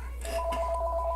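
A phone rings with a steady electronic tone that starts partway in and continues at even loudness over a low hum, with no one speaking.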